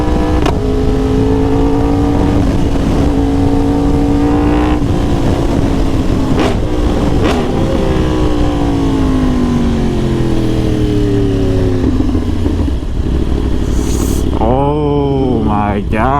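A Lamborghini accelerates past on a street in Houston, its engine note climbing steadily and loud throughout, with a shift and a rising rev near the end, heard from close by amid traffic.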